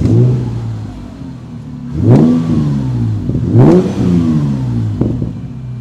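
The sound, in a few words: Morgan Roadster 3.0 V6 engine revving, modified sport exhaust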